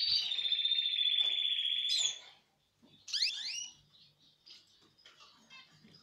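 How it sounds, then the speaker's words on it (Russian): A male canary sings indoors: a long, sustained high trilling note cuts off, then quick sweeping chirps and softer twittering follow, faint and alone without talk. "Сейчас вы слышите, кеннер поет."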